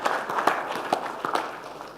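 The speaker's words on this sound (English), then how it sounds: "let's just one more big round of applause for Quennie" An audience claps at an afternoon conference session, a brief burst of steady, crisp applause heard from nearby with no talking over it.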